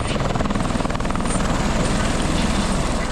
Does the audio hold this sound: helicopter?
yes